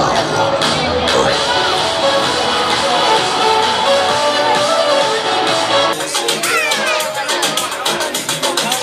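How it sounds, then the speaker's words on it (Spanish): Crowd at the finish of the Memorial Ángel Altabás 5 km race claps and cheers steadily, with children's voices and chatter mixed in; the clapping grows sharper and more distinct toward the end. "un aplauso para todos"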